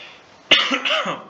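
A single sharp cough from an irritated throat bursts out close up, followed by a brief rough rasp as it trails off.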